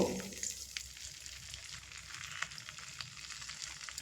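Batter poured into hot oil sizzles steadily, with spluttering mustard seeds crackling and popping on top. The frying is close and continuous, and no one speaks.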